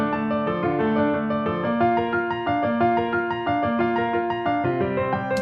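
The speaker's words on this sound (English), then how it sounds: "so you use a real high quality sound like this addictive keys here" Rich sampled piano from the Addictive Keys plugin plays a continuous progression of sustained chords with moving melody notes, steady and full throughout, with no voices.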